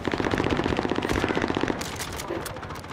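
Rapid automatic gunfire in a multiplayer shooter video game, a dense stuttering burst of shots that runs for most of the moment before thinning into scattered effects, loud and close.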